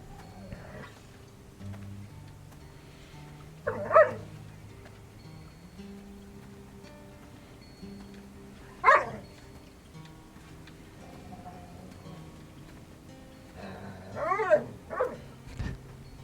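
A dog tries to play with a cat outdoors in woodland, and short yips and whimpering barks break out at a few scattered moments over quiet background.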